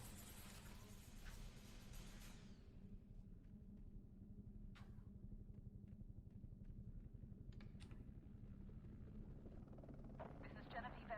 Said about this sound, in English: And a helicopter. That's less great.